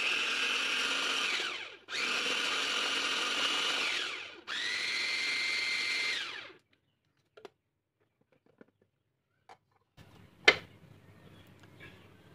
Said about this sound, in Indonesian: Sekarang udangnya siap kita haluskan menggunakan chopper.